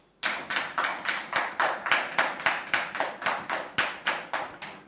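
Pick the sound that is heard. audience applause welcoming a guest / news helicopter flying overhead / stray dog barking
audience applause welcoming a guest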